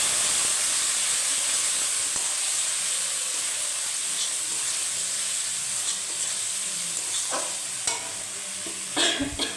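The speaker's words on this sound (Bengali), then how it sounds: "মশলাটা ভালো করে আমি কষে নেবো।" Ground cumin, coriander, chili and turmeric sizzle steadily in a hot pan for chana paneer, a constant bright hiss with occasional stirring scrapes and clicks toward the end.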